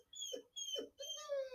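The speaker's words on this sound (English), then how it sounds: "That's my dog again." A pet dog whimpers and whines in a home in three drawn-out, high-pitched bursts, the last a sustained rising cry, close and fairly clear with no talk over it.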